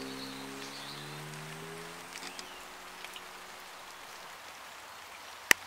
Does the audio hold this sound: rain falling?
yes